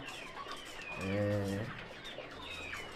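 Chickens are kept in a wooden cage holding 108 birds on a poultry farm in Mbeya, Tanzania. A single drawn-out cluck stands out midway over faint background bird calls.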